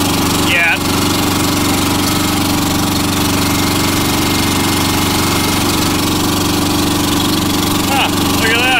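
A Sears hydro diesel garden tractor engine runs continuously nearby with a loud, steady, rough chug. Brief rattling bursts come near the start and the end.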